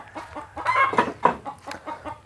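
A hen clucks over and over in short, uneven bursts close by, alone and fairly loud.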